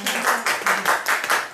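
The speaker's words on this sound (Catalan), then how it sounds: "Un aplaudiment!" Audience applause with a few quick rhythmic bursts of clapping, brief and fairly close.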